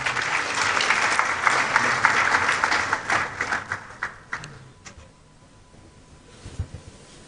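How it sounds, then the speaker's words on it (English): Audience clapping for a speaker at a university freshers orientation, dense applause that thins into scattered individual claps and fades out, with a faint quiet stretch and a low thump near the end. "Once again, let's clap for him."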